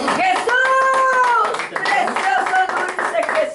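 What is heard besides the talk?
congregation applauding in church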